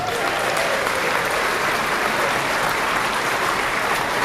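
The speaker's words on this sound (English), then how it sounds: "How about a round of applause?" Loud, sustained applause from a crowd at a pipe band's Robbie Burns dinner, steady and dense throughout with no pauses.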